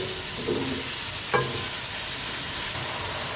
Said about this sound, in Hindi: अच्छे से इसको भूनना है।